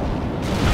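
An artillery explosion in the World in Conflict video game, a short, heavy, loud boom with a thick low rumble that swells toward the end.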